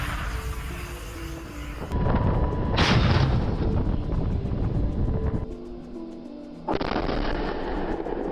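Artillery gun crews fire in a Russian bombardment, giving heavy booming blasts with long rumbling echoes that roll one into the next, loud and sustained with no voices.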